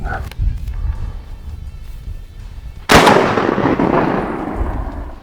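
A single loud shot from a Landor Arms bullpup 12 gauge semi-auto shotgun cracks out at an outdoor range, with a long decaying boom and echo after a stretch of quieter ambient noise.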